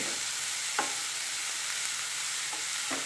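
Tomatoes fry for Mangalore uppu koli chicken, a steady, even sizzle filling the whole stretch, with occasional light stirring taps in the pan.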